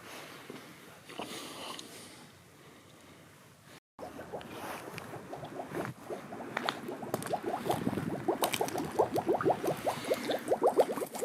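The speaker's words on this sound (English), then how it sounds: "But this is just bubbling." Water bubbles and gurgles in a steady, rapid churn inside an abandoned waste incinerator, growing louder and busier toward the end, fairly close, with no speech.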